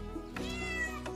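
A cat in the hidden-object game Mortimer Beckett and the Lost King lets out a single drawn-out meow, close and clear, rising then trailing off, heard alone over a soft musical backdrop.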